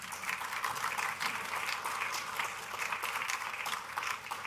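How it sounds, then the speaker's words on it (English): An audience at a peace gathering applauding warmly, a sustained, fairly distant patter of many hands clapping with no pauses. "Let's give this movement a round of applause"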